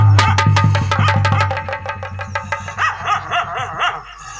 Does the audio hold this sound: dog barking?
yes